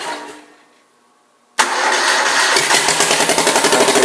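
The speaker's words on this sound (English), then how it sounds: "It was only running on one cylinder." Chevrolet Suburban engine cranks and starts after a brief quiet gap, then runs loud and uneven with a lumpy, pulsing idle from a misfire, running on only one cylinder.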